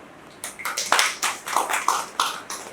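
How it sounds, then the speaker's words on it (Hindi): A small audience at a kavi sammelan claps in scattered, uneven bursts to welcome a poet to the stage, with the applause rising and falling over a few seconds. "जोरदार तालियों से इस्तकबाल कीजिए"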